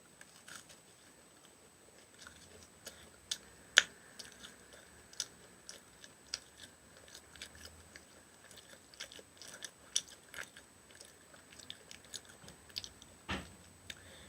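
Someone bites and chews a crisp, choux-cream-filled bungeoppang, a fish-shaped pastry, close up, with quiet, irregular crunches scattered throughout and no talking.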